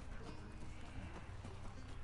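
Horse hooves clip-clopping in The Last of Us Part 2, a steady stream of hoof steps at close range under continuous game ambience, with a faint snort or whinny.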